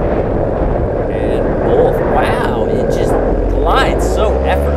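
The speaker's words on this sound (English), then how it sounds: "Listen to how little throttle I just used. I just took off." A paramotor trike engine hums low and steady at light throttle during takeoff, a droning whir under wind noise, with someone talking over it.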